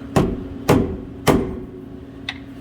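Hammer taps on a BMR sway bar (part SB035) being driven into place on a car: three sharp, evenly spaced metallic strikes close by, then a fainter fourth tap, with a steady low hum behind.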